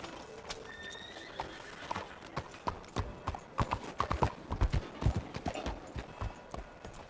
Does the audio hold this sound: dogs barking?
no